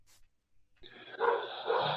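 A puppy whimpers and whines in short, close bursts that rise after a brief quiet stretch, fairly loud against a faint background hum.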